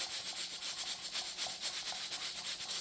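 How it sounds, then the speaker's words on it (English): A weighted topper on a pressure canner rocks on the stovetop while processing homemade enchilada sauce, giving a steady rhythmic hiss and rattle, a soft repeating pulse several times a second, heard alone. "What I want is for that topper to start rocking pretty consistently back and forth."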